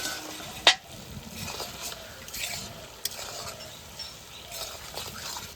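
Onions sautéing in a pan for mutton biryani, a soft steady sizzle with occasional scrapes of stirring and one sharp clink of a utensil near the start, heard close with no talk.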